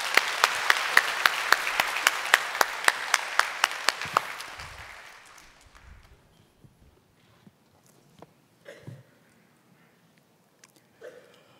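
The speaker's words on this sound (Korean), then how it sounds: "나오실 때 우리 박수로 환영해 주시기 바랍니다" A Sunday church congregation applauds to welcome a deacon to the stage, the clapping marked by crisp rhythmic beats for about four seconds before dying away into footsteps and faint scattered noises.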